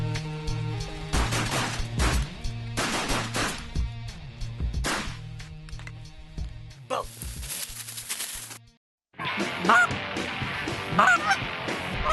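A large flock of Canada geese flying over Kansas fields, their honking loud and continuous as many birds call at once overhead. Bursts of gunfire or sharp cracks break in briefly near the end.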